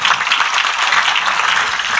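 Dense, steady audience applause at a church youth service, a continuous close wash of many hands clapping with no talk over it.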